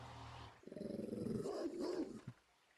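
Several dogs outdoors bark and growl in a rough, rapid burst that starts abruptly and runs for about two seconds before dropping away, fairly distant and not loud, with no speech.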